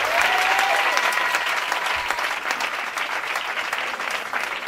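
A church congregation applauds the Lord, sustained loud clapping from a whole crowd filling the room, steady throughout with faint voices mixed in.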